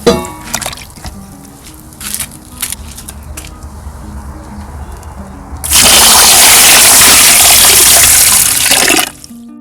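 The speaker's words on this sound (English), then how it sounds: "I will add around 2 liters of water." About two liters of water are poured onto dry cocoa peat bricks, first as a few soft splashes and drips, then as a loud, continuous gushing pour lasting a few seconds before it stops.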